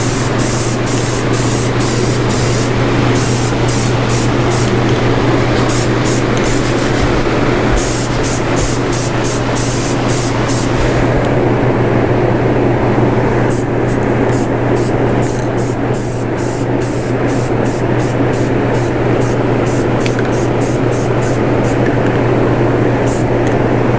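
Spray paint primer hisses in repeated short bursts onto a Ridgid 18-inch pipe wrench beside a running fan with a filter, a steady low drone underneath the close, rhythmic spraying.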